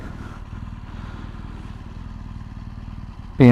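A 2018 BMW R 1200 GSA adventure motorcycle, triple black, rumbles steadily as it is ridden, a low continuous engine drone with wind, ending in a sudden loud burst of noise.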